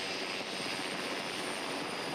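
An Air 5 rescue helicopter takes off with a victim aboard, giving a steady, loud roar of engine and rotor noise that holds constant without voices.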